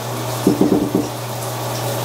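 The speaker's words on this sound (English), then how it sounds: "I'm in the shower" A shower runs water in a steady, loud, close hiss over a low hum, with a few brief splashing pulses and no voices.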